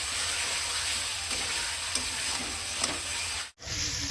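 Tomato and spice paste sizzle in a pan as it is stirred slowly, a continuous close frying hiss with soft scraping that cuts out abruptly just before the end.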